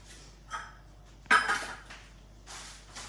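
A utensil scrapes coffee cupcake batter from the side of a bowl, a few scrapes and clinks up close, with one sharp louder stroke in the middle and quiet pauses between them.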